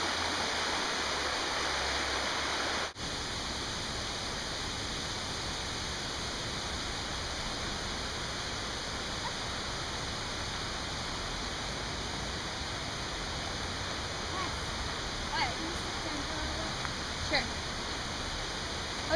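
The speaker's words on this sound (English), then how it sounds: "I want to look at the stream." A stream of flowing water in a German town setting makes a steady, broadband rushing wash that stays constant and fairly close throughout, with faint thin background sounds and no clear talk.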